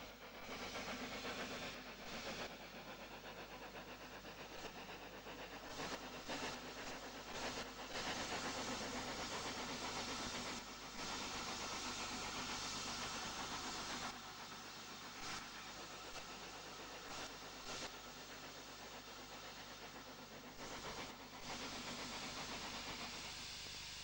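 A 4F steam locomotive shunts in the approaches to Leicester Midland Shed, giving a steady broadband hiss and rumble of steam and running gear, with brief louder bursts and no voices.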